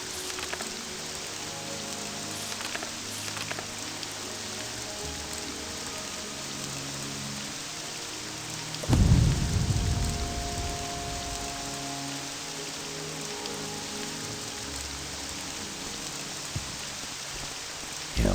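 Steady rain patters throughout a stormy scene in the video game Morrowind, with one deep rumble of thunder breaking in midway. No one speaks.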